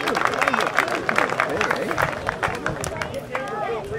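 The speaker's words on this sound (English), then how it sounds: "I think he needs a big round of applause for that landing" A crowd at an RC flying field applauds a radio-controlled parachute landing, with steady clapping and cheering voices mixed with chatter close by.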